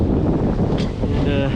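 Strong wind rushes over a microphone aboard a sailboat under a single headsail, a loud steady buffeting roar with the wash of water beneath.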